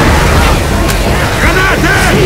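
A loud, booming grenade explosion in the zombie shooter Left 4 Dead 2 fills the clip with dense noise, while voices call out briefly over it.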